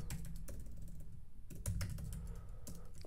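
Quick, light keystrokes on a computer keyboard as a terminal command is typed, irregular clicks in short bursts with brief pauses, close and fairly quiet.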